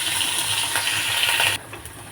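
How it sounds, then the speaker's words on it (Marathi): Ginger garlic paste hits hot cooking oil with a bright, close hiss and crackle that cuts off abruptly partway through, followed by quieter kitchen clatter. "आलं लसणाची पेस्ट तेलात टाकते."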